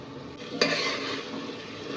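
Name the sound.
paneer and coriander cooking in biryani pot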